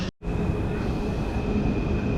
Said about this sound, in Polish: to pociąg z Warszawy Wschodniej do Krakowa Głównego, który właśnie tutaj wjeżdża obok nas